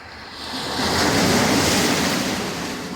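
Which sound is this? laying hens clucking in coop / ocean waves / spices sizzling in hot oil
ocean waves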